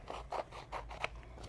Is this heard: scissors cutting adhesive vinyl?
yes